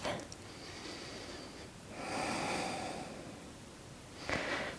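Steady breathing of a person holding a yoga pose during a morning class, a soft airy exhale swelling in the middle and a sharper snort-like breath near the end, close and quiet.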